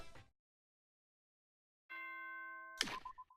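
An announcement chime from the video game Danganronpa 2 rings out clearly after a brief burst of noise: a sustained bright tone followed by a sharp strike and a short trail of quick bouncing blips.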